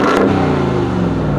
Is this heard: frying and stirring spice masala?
no